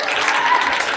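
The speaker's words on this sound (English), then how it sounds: "Give me a round of applause." A school morning-news group applauds, steady clapping filling the whole moment without pause at an even level.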